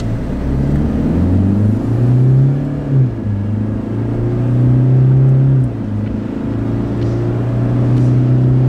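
Toyota Revo GR Sport pickup accelerating, a loud, near, low engine drone rising and shifting through gears with a steady rumbling tone and no talk.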